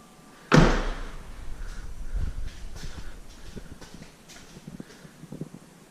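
A Subaru WRX front door slams shut with one loud, close thud, followed by softer cabin rustling and faint knocks from inside the car.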